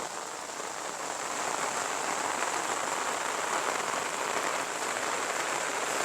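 Steady rain pours down continuously, a dense even hiss of drops hitting surfaces close by, with no voices.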